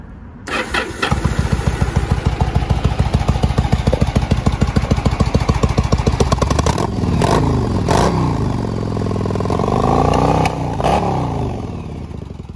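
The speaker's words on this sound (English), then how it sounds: "All right, let's go ahead and start this bike." A 2007 Yamaha V-Star 1100 Classic motorcycle cranks with a rapid clattering starter, catches, and settles into a loud, close, steady lumpy idle with a couple of throttle blips near the end.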